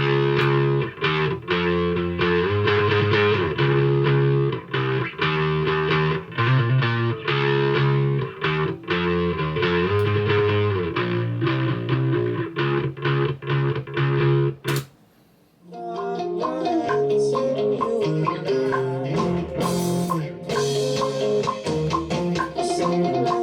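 Bass guitar tone blending the lows of a DI with the highs of a bass amp, playing a steady, driving line of notes, close and loud, with a brief drop near the middle before a fuller section resumes; no voices.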